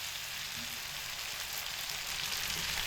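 Steady broadband sizzle of spiced cauliflower curry frying in a hot pan as hot water goes in, a continuous hiss with no voices.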